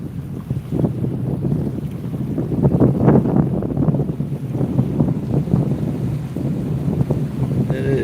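Steady wind roars and buffets the microphone on a windy day while fishing at Haystack, a loud continuous low rumble with gusty surges and a hint of water and boat noise throughout.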